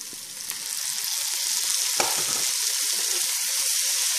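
Tomatoes hit a frying pan of browned garlic and onion and sizzle loudly and steadily, with a few scrapes and stirring clicks along the way.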